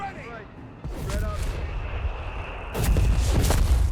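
Three mortar pits in Company of Heroes 3 fire a steady bombardment, heavy booms and rumbling impacts building louder toward the end, while a caster talks over the battle noise.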